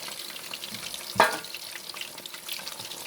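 Prawns frying in a pan, a short burst of hissing sizzle with a sharp clink near the middle, then settling to a steady crackle.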